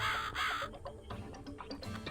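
A crow in The Cat Lady game gives two loud, hoarse caws in quick succession, followed by faint ambient game sounds.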